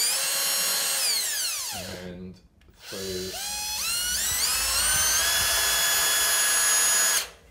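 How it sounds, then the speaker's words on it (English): A power drill bores through a steel gusset plate during a steering rack fitting. Its high whine spins up, cuts out briefly, then restarts and holds steady until it stops abruptly, with a few words spoken nearby. "drill through that gusset plate"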